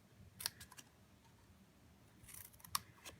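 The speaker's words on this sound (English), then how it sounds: "I'm going to cut that into a banner shape." Scissors snip through a small piece of petal pink cardstock to shape a banner end, two quiet crisp cuts spaced apart against a near-silent background.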